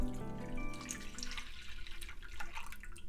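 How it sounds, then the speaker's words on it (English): Liquid homemade jello poured from a pot into a shallow dish, a brief trickling pour with light splashing and dripping, close and quiet with no talking. "Pour it into a shallow dish."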